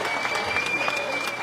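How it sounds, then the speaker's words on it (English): An audience at a street naming ceremony applauds the mayor, a short burst of crowd clapping at moderate level with a faint steady tone beneath it. "Give him a round of applause."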